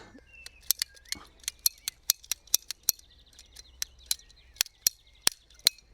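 Garden shears snipping back a plant in an off-grid kitchen garden bed, a run of crisp, sharp clicks at an irregular pace, close and clear against quiet outdoor background.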